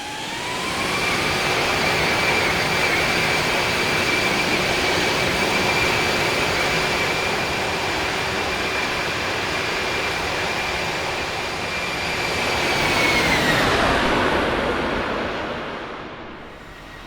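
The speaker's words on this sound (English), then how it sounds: "The plane is aligned on the runway, and after receiving clearance, it takes off from Kathmandu at 4 p.m." A passenger jet takes off from the runway at Kathmandu, a loud continuous engine roar with a high steady whine that rises in pitch, then thins out as the aircraft climbs away.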